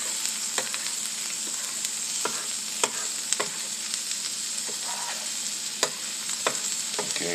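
Onions frying on a griddle while smash burgers cook, a steady close sizzle with scattered sharp pops and spatula scrapes throughout, no voices.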